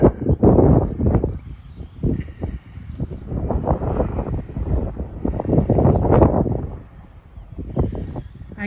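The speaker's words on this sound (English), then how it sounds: "It's quite windy." Strong wind buffets a microphone outdoors, loud rumbling gusts rising and falling throughout, with faint voices underneath.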